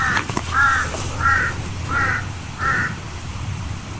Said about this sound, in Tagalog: May mga uwak, maraming uwak dito.